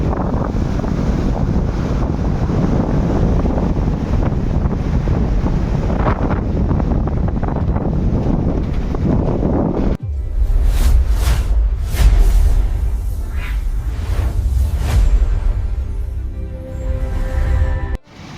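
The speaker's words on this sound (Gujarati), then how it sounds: "કેટલી વારથી વરસાદ તો જો જોરદાર આવે છે, ખતરનાક આવે છે અત્યારે વરસાદ" Heavy rain pouring outdoors in Amreli, a loud, dense broadband roar close to the microphone with gusty wind buffeting, shifting to a rougher, splashier wash partway through and continuing without speech.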